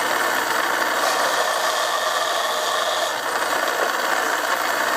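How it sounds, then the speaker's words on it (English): Cloth buffing wheel loaded with rouge abrasive polishing a wooden gun stock for a custom Mauser rifle, a loud continuous whirring rush with steady friction hiss and no pauses, no talking. "This little wheel is obviously it's just a cloth buffing wheel"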